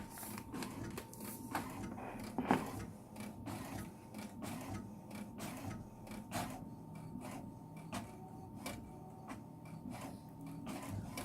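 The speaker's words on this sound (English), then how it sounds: "So now it is printing the report." An HP Deskjet inkjet printer printing a report, its carriage making steady, repeated short mechanical passes with soft whirring and clicking, fairly quiet and close with no talking.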